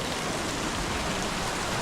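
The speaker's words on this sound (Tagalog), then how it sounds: "Oh, grabe, magdamag na ulan." A strong all-night downpour drums without a break on surfaces near a flooded area by a river, a thick, constant roar of rain with no talking.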